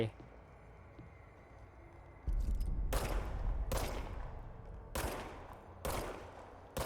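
Gunfire from the video game Control: a quiet stretch, then several sharp, loud shots in an irregular rhythm, each decaying quickly over a low, constant rumble.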